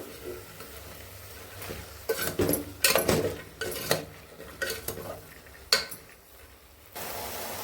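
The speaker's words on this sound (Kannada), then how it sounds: "ಇದನ್ನು ಕೂಡ ಒಂದೆರಡು ನಿಮಿಷ ಮೀಡಿಯಮ್ ಫ್ಲೇಮಲ್ಲಿ ಎಣ್ಣೆಲೆ ಹುರ್ಕೋಬೇಕು" Fresh field beans being stirred in oil over a medium flame, with repeated close spoon scrapes and clinks against the pan over a faint sizzle.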